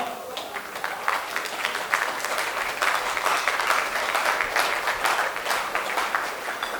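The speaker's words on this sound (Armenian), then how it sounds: "Եկեք եւս մեկ անգամ բարձր ծափահենք նրանց համար" Wedding guests give the newlyweds a sustained round of applause in a hall, the dense clapping of many hands holding steady and fairly loud throughout with a faint murmur of voices underneath.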